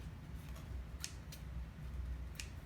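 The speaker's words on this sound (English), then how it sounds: "Gonna snip that and snip the threads on this side." Scissors snipping sewing threads while closing up a fabric hair scrunchie, giving three short, crisp cuts spread over a low background hum.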